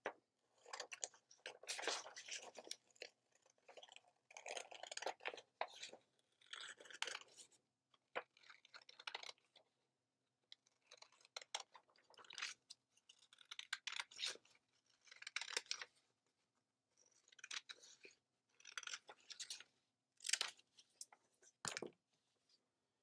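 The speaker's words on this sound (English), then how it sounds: "And then you will grab scissors and cut out the shape." Scissors snip through paper to cut out a shape, making repeated close, crisp cuts in short bursts with small pauses between them.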